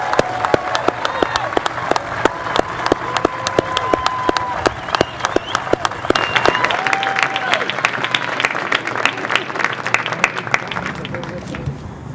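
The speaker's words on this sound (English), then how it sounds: "Please join me in a round of applause for the Lake Catholic class of 2021" Applause from a crowd at a Catholic high school commencement for the graduating class of 2021, with sharp individual claps near the microphone over broad crowd clapping, whistles and cheering.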